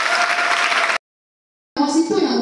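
A church audience at an engagement presentation bursts into applause and cheering, a dense burst of clapping that cuts off abruptly, then resumes briefly with voices over it.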